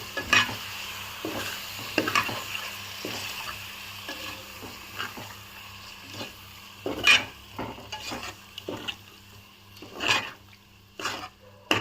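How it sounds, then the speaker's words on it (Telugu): A spoon stirs yogurt into egg dum biryani masala in a pan, giving intermittent scrapes and knocks against the metal over a soft background sizzle, with no talking. "ఇప్పుడు ఇందులోకి పెరుగు వేసుకుందామండి. ఒకసారి మొత్తం మిక్స్ చేద్దాము."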